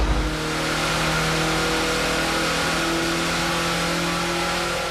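A camper van engine roars continuously at close range, revving hard through the gears with a steady rising drone and gritty, noisy exhaust.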